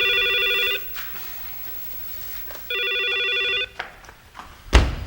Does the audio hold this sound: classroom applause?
no